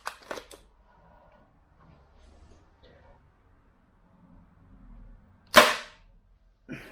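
An airsoft AWM sniper rifle fitted with a metal piston kit fires through a chronograph. A sharp, close crack stands out near the end, with faint handling noise before it and a softer click just after.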